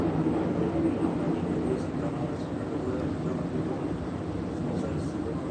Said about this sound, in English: Let this plane pass by.